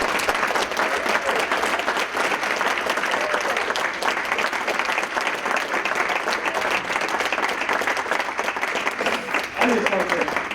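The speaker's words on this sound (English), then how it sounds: "So I'd like to ask for a big Lorain round of applause" Sustained loud applause from a crowd honoring the Lorain Titans football team and coaching staff at a city ceremony, dense steady clapping filling the room for about ten seconds with a few voices mixed in.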